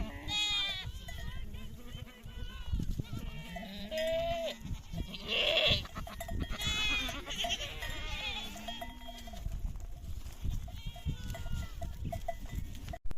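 About 90 goats bleat loudly and repeatedly, many overlapping calls from a nearby herd in the mountains, with occasional voices talking in Turkish among them.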